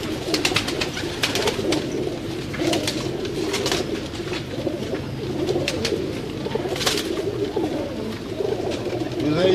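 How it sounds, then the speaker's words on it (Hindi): Pigeons on a rooftop coo repeatedly in soft, overlapping calls, with occasional sharp chirps and clatter close by and a busy outdoor background. "तमाम दोस्तों को उनके कबूतरों का लाइव शो करवा रहे हैं।"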